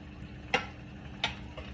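Vegetables, squash among them, dropped into a cooking pan: two sharp clattering hits about half a second apart, then a softer third, over a quiet low simmer.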